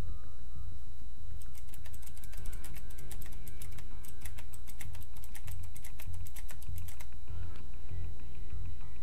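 Fast computer keyboard typing, a dense run of rapid clicks through the middle, loud and close, with a steady hum behind and no talk.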